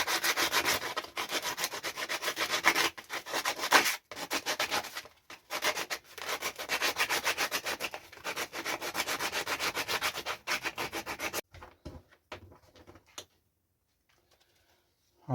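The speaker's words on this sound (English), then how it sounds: "so we'll just sand the edge that we've cut" Sandpaper rubbing back and forth along the cut edge of a homemade Friday the 13th Part 7 costume mask: steady close scratchy strokes for about eleven seconds, then a few scattered light scrapes and near silence.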